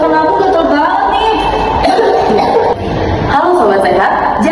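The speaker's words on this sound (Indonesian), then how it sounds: "jadi yang tadi itu namanya si batuk." A person coughs several times in rough bursts, close and loud, mixed with speaking and throat sounds.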